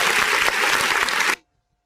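Applause from a graduation ceremony audience at Lukenya University, dense steady clapping for about 1.3 seconds that stops abruptly into silence.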